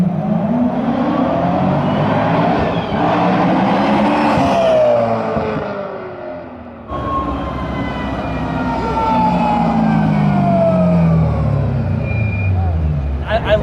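A twin-screw supercharged BMW engine revs at a car meet, its whine climbing and falling through several loud, sweeping pulls. People talk over it.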